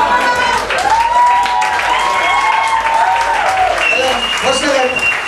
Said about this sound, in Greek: ένα χειροκρότημα στο Βασίλη.